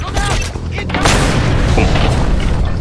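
Grenade blast in Just Cause 2: a loud, heavy boom with a rumbling tail under continuous game noise and a talking voice.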